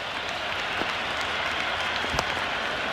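A stadium crowd in the Cricket 26 video game applauds and cheers in a continuous dense roar of clapping, broad and steady throughout, with a couple of brief louder spikes.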